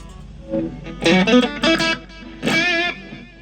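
Electric guitar notes through a Cuvave Baby multi-effects unit ring out with a delay effect, each phrase trailing into repeating echoes that fade, loud and close, with no talking.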